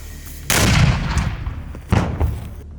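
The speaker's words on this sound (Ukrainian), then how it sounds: "Постріл!" A loud gunshot booms close by during a military assault near Bilohirka, Ukraine, followed by a second heavy blast about a second and a half later, each with a rumbling tail.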